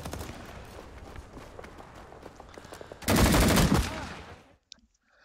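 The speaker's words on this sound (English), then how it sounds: "I fired to the left of him." Gunfire in the Vietnam-era shooter Rising Storm 2: a sustained, loud burst of automatic fire dominates the middle, preceded by scattered softer shots and movement, then cuts off into near silence.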